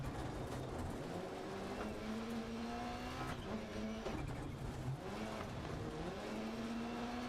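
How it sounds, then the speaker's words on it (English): Rally car engine in the video game Dirt Rally 2.0 revs hard and continuously, its pitch rising and falling through gear changes and constant throttle, loud and alone with no talk. "I love the sounds of rally cars."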